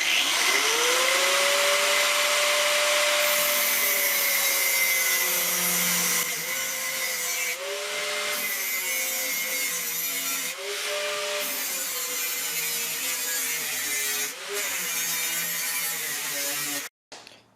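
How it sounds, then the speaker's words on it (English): An angle grinder cuts through metal plate during engine bay panel fabrication, giving a loud, continuous high whine whose pitch sags and recovers as the disc bites, with brief dips, running for most of the stretch before stopping abruptly. "we'll cut this out with a grinder"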